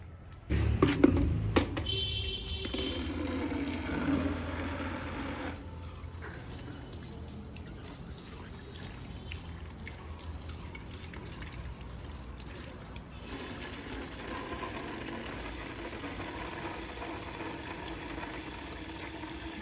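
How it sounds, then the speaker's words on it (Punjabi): Water gushes and splashes onto the soil around a newly planted tree, a loud pour at first that gives way to a quieter, steady trickle, with faint background sounds. "ਬਸ ਹੁਣ ਇਹ ਚ ਪਾਣੀ ਪਾਉਣਿਆ"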